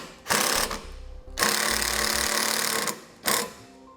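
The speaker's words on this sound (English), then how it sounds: "And we'll use self-tapping screws to do that." A power driver runs self-tapping screws into a base plate for a towed-vehicle battery charge line kit, giving three loud whirring bursts with short gaps between them and no talking.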